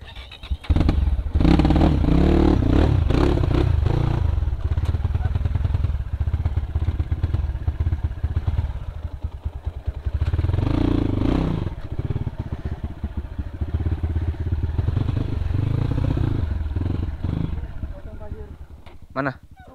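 A Gazgas GE 250 GZ2 trail motorcycle idles and revs on a Bromo sand-sea off-road track, its engine a loud, steady close rumble that runs throughout under talking voices.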